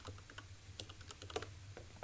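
Soft typing on a computer keyboard, quick irregular key clicks at close range in a quiet room.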